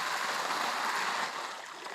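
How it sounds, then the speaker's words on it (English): Water pouring steadily in an improvised camp shower during outback camping in Australia, a continuous rushing splash that is fairly close and eases off slightly toward the end. "Then we can just stand here and just put some water on."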